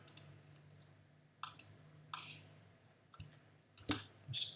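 Sparse computer mouse clicks come in small clusters across a quiet room while working in Fusion 360 3D design software, with no voices.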